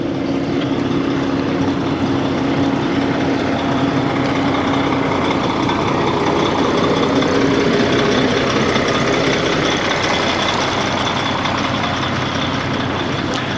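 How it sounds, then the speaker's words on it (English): A bus engine idles steadily near the Chong Chom–O Smach crossing at the Thai-Cambodian border, a constant low rumble with a broad wash of traffic noise that never lets up and no talking. "There's another bus up there, just pulled in."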